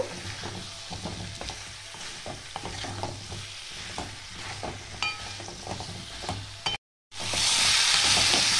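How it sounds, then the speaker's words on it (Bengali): Bottle gourd tossed into cooked-down spices and stirred in a frying pan, with steady close sizzling and scraping stir strokes throughout, a brief drop-out, then louder, fuller sizzle as the gourd hits the hot masala. "এবার দিয়ে দেবো লাউগুলো, দিয়ে দেবো। একটু ভালো করে নাড়িয়ে চাড়িয়ে নেব।"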